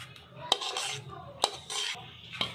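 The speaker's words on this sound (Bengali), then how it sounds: "দেখুন, এখন আমি মিশ্রণটা ঢেলে দিচ্ছি" Mango pulp mixture goes into an oiled pan with a soft, continuous pour. Three sharp metallic clinks of utensil against the pan ring out at roughly one-second intervals, close and fairly loud.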